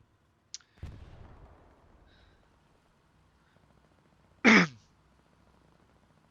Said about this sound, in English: That was a terrible cough.